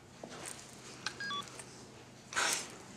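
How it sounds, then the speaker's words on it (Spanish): A mobile phone's keypad gives a few short electronic tones in quick succession as a number is dialed, faint and close, followed by a louder brief rustle. "Le marco al celular."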